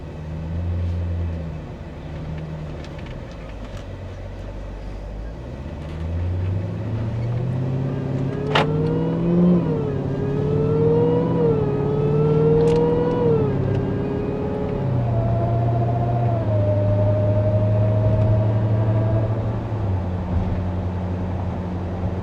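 A Dodge Charger Hellcat with straight-pipe exhaust from the muffler back, driving steadily with its engine droning loud and close, pitch rising and falling through gear changes and a brief higher whine midway.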